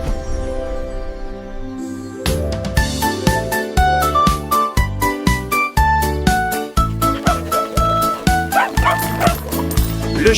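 A dog barks repeatedly in quick rhythmic bursts, woven into a lively children's song with bright instrumental backing and a few higher yips.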